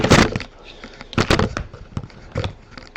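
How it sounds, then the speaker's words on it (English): Microphone knocked and bumped around at close range, giving a few loud, irregular thumping bursts with scraping handling noise between them, and no speech. "noise in the background. I just knocked the microphone around."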